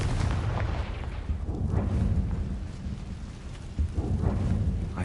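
Confringo blasting spell cast in the Hogwarts Legacy video game, a dense booming burst of explosive rumble sustained throughout with a couple of swelling surges, loud and alone with no talking.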